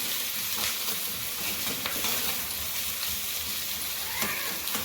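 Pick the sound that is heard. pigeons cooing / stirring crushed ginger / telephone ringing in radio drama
stirring crushed ginger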